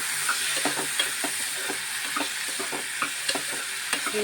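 Chopped tomato, onion and green chilli frying in hot oil for an egg omelette masala gravy, a steady close sizzle broken by irregular scraping stirs of a spatula, with no talking.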